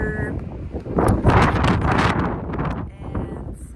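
Wind buffeting a microphone outdoors on a rocky nature hike near Marseille, loud, gusty rumbling that swells and fades over a few seconds, with a person speaking.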